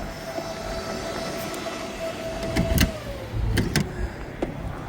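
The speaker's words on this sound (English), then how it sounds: "the charge flap just fought me and closed" Charge flap on an electric car at a public charging station closing by itself: a brief motorized whir and a couple of soft clicks over a steady hum of traffic and background noise, with no voices.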